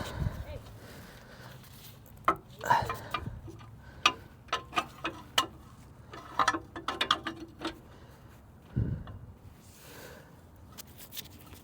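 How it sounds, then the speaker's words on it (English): A breaker bar turns a bolt on the suspension of a Mazda FB RX-7. Irregular metallic clicks and clunks come close by at a quiet level, in scattered bursts with short pauses and a heavier knock near the end. "Give that a couple more turns on the breaker, and then I'll bust out the wrench."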